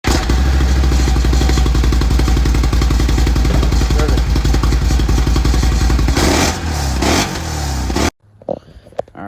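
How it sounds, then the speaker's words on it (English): Can-Am Renegade 1000 XMR ATV with its stock exhaust, loud close rumbling idle and rapid engine pulses, a few revs near the end before it cuts off abruptly. "I'm gonna roll a clip of the stock exhaust"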